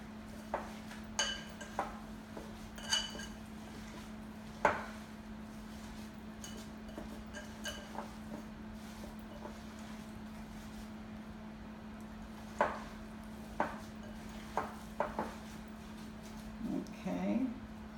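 Salmon patty ingredients being mixed in a bowl, with soft squishing and scattered clinks of utensil against the bowl, close and quiet against a steady low hum.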